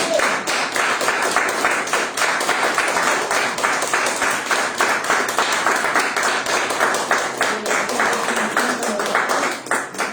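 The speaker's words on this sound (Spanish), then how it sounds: "¿Cuánto le dan un aplauso por los jóvenes?" A church congregation applauding steadily, dense clapping that carries on loud and sustained for about ten seconds, with some voices mixed in.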